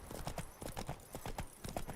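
Roach, the horse in the video game The Witcher 3, gallops with quick, rhythmic hoofbeats that sound close and steady and carry on without a break.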